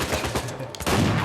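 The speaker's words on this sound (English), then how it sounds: "How realistic are shotguns in this game?" Shotgun blasts in a first-person shooter video game, a quick burst of loud, close gunfire with a short pause before another heavy shot.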